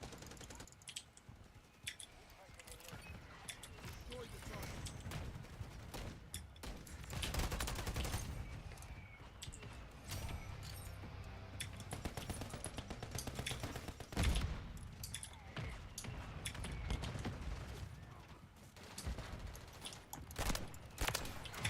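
Rapid automatic turret fire in Call of Duty: Modern Warfare 3, a dense, sustained rattle of gunshots with mechanical clatter running through the whole stretch, loudest midway and steady to the end.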